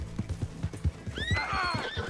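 A horse in Red Dead Redemption 2 lets out a loud, close whinny after a few clopping hoofbeats, the neigh wavering and falling away over about a second.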